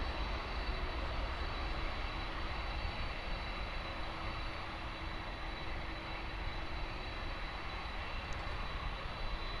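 Steady broadband roar of jet airliner engines at Miami Airport, a constant distant rumble with a faint whine, holding level throughout without speech.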